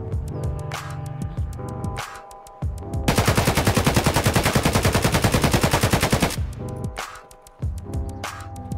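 A 7.62x39mm AK rifle firing full-auto in Escape From Tarkov, a long unbroken burst of loud, close gunshots lasting a few seconds, with single shots and ambient game sound before and after.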